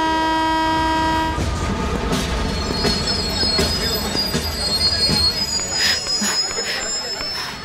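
A train at a railway station sounds a sustained horn, then rolls past with squealing wheels, rattling carriages and sharp metallic screeches, loud and close, with the horn ending after about a second and a half.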